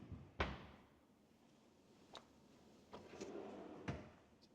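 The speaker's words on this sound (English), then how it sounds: "Trash drawer on the left of the sink." A kitchen trash drawer beside the sink in a luxury home slides and bumps shut, a sharp thunk followed by a few softer knocks and rattles, close and quiet.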